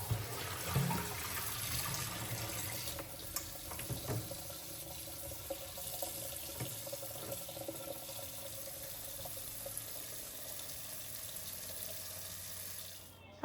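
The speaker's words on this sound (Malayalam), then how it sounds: "ഈ ഒരു പയറില്ലേ അതൊന്ന് കഴുകിയിട്ട് കുറച്ച് നേരം ഒന്ന് വെള്ളത്തിലേക്ക് ഇട്ട്" Beans being rinsed in water at a kitchen sink, with a steady faucet stream and gentle splashing running throughout at a soft, even level.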